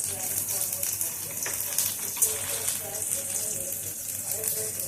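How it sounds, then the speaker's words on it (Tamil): Small onions fry in hot oil for a siru keerai sambar tempering, giving a steady, moderate sizzle and crackle with occasional stirring. A voice can be heard faintly in the background. "இப்போ இந்த வெங்காயம் வந்து நல்லா வதங்கட்டுங்க"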